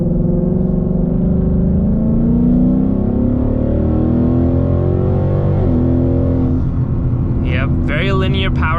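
Ford Mustang GT engine pulling in track mode, a steady loud droning roar that climbs gradually in pitch, heard from inside the car, with talk over it.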